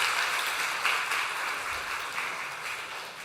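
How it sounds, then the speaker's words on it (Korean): A church congregation applauds steadily to welcome a visiting missionary at a Sunday service, a dense, even wash of clapping from many hands lasting a few seconds with no talk over it. "우리 박수로 환영하도록 하겠습니다."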